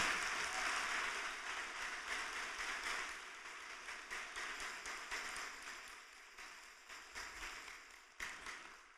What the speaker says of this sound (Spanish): Si ese aplauso es para el Señor, yo creo que lo merece más fuerte.